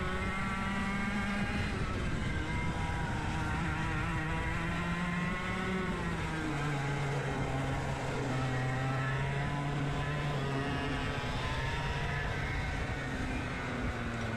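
100cc go-kart engines racing on a track, a constant loud buzzing whine that rises and falls in pitch as the karts accelerate and ease off, with another kart running close ahead.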